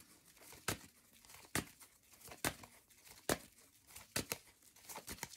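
Tarot cards are drawn from a deck one after another: quiet, sharp papery swishes and snaps at irregular intervals, close by, with no voices.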